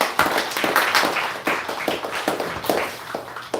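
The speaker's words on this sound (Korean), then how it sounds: "박수." Applause from a church congregation during a Sunday morning service, a dense wash of many hands clapping steadily at fairly close range, with no speech over it.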